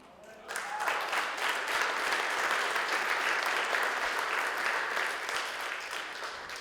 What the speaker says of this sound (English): Thank you for the claps, I feel so loved.